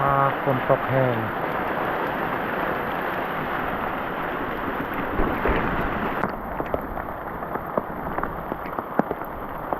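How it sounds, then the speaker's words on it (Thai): Heavy rain pouring down over an open farm field in a storm with wind, a dense, continuous hiss close by, with scattered drop impacts and a brief voice at the start. "ฝนตก ฟ้าลมพัดถึงว่าตกแห้ง"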